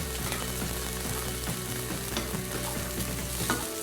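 Lentils with sherry vinegar and two bay leaves are stirred in a hot pan, a steady loud sizzle with scraping stir strokes running throughout, no voices.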